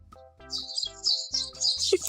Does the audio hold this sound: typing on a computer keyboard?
no